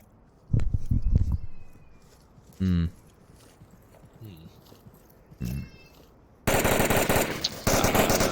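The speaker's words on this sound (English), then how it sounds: "these 2 guys are carrying LMGs. I think they're the noisy team" Light machine gun fire in the VR shooter Onward during a competitive match: short bursts of rapid automatic shots around the first seconds, then a dense, loud sustained burst near the end, with voices talking between shots.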